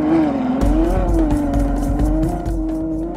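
A 2012 Ferrari FF with four-wheel drive runs on a snowy road course, its engine droning loudly and steadily with a sustained tone and bursts of tire noise close by.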